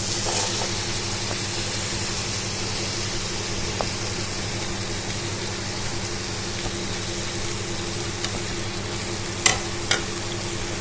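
Prawns stirred into a sizzling potato masala in a hot pan give a steady, close frying hiss with soft scraping, continuous and without speech.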